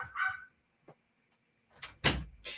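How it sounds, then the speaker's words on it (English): A door is shut indoors in a quiet room, with a faint click and a couple of soft knocks building to a firm thump and a final rattle near the end, and no talking. "Had to close my door,"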